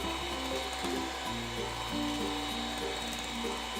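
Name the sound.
hand mixer whipping eggs at high speed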